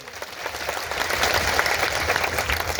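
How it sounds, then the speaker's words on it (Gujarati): A crowd at a tribal community mahapanchayat rally claps in a continuous, dense burst of applause that builds quickly and holds steady at fairly loud level without any speech over it. "જોરદાર તાળીઓ પાડી લો"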